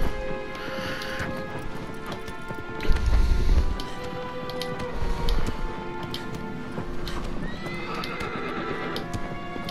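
Agro the horse gallops in the video game Shadow of the Colossus, hooves clopping in a steady rhythm with a whinny and a heavy thump partway through, set against game ambience.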